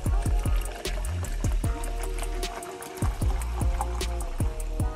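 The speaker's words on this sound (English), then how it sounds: "with a little bit of ice that I'm gonna pour this seltzer into" Seltzer glugs from a bottle into a bowl of fish-batter flour and ice, a quick run of bubbly, regularly spaced pouring gulps and splashes, close and fairly quiet.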